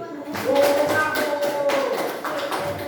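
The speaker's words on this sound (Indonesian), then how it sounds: "Oke, tepuk tangan untuk Arifin." A seventh-grade class gives a student a round of applause, a burst of many hands clapping at close range that fades gradually, with children's voices mixed in.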